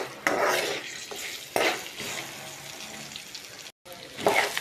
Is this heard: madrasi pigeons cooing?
no